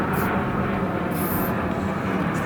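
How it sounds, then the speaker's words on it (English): A fixed-wing airplane passes overhead outdoors, a loud, steady broadband roar that fills the whole clip with no break. "Oh, another airplane."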